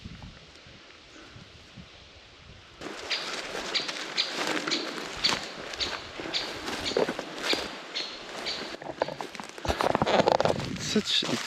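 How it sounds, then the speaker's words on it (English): After a quiet start, a small parakeet-sized bird calls repeatedly in sharp, persistent bursts in a Swedish forest, over rustling and footsteps, with someone speaking now and then. "It's small parakeet sized bird, and it's making noise, man."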